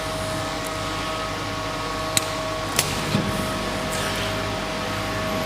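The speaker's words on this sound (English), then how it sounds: "Now the motor is running, slowly start to rotate because we are having high masses to be started up." A large electric motor at the SAQ Grimeton radio station spins up heavy rotating masses, giving a steady broadband mechanical hum with faint tonal whine and a few soft clicks, continuous and without talk.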